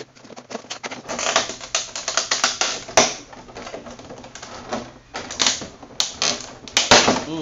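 Packing tape being peeled and ripped off plastic toy packaging for a pirate figure, a loud close series of crackling, clicking tears and snaps with brief pauses between pulls.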